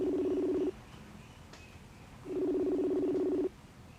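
A phone rings out unanswered in two buzzing tonal bursts separated by a gap of quiet, clear and fairly loud with nothing else around.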